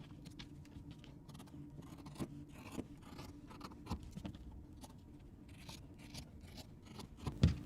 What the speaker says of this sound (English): I'm just going to cut them out with a pair of scissors